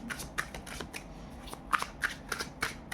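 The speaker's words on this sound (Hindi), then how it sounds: "ओके, एक कार्ड और निकालूंगी" Tarot cards are shuffled and drawn by hand, giving a run of crisp riffling flicks and slaps in irregular bursts, close and moderately quiet, with no talking.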